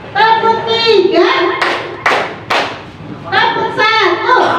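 A group in a classroom positive-culture session claps three distinct, loud beats in a row between lines of a chanted counting call, with voices before and after the claps.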